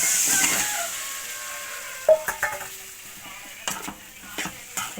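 Gooseberries for a Kerala gooseberry pickle tipped into hot salted oil and stirred, a soft sizzle fading under a few sharp clacks and scrapes of a spoon against the pan, close by with no voices.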